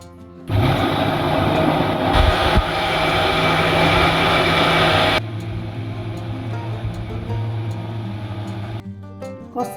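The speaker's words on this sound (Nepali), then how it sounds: "राखेँ, अब मिक्सर अन गर्छु है त मैले।" An electric kitchen mixer grinds rice into flour with a loud, steady whirring roar that runs almost the whole time, its pitch and weight shifting partway through before cutting off near the end.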